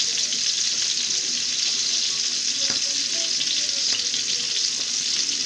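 Food sizzles and crackles steadily in a hot pan, a close, continuous frying hiss with a few faint clinks.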